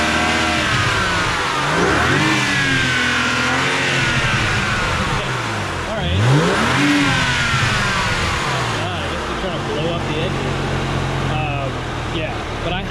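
A 2011 BMW Z4 35is with a racing chip and other mods revs hard, its engine rising and falling in pitch through several sweeps, loud and close, with a voice talking briefly over it.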